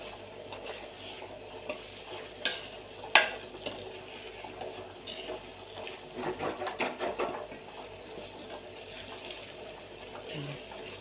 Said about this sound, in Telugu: దీంట్లో ఫస్ట్ ఈ కారం అంతా వంకాయలకు పట్టేదాకా కలుపుకోవాలి.